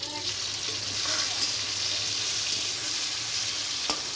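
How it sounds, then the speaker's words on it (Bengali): Tomatoes frying with onions in a cooking pan give a steady, close sizzle while they are stirred. A faint scrape of the stirring utensil shows briefly, and no one speaks. "টমেটোগুলো দেওয়ার পর একটু নাড়াচাড়া করে নেব"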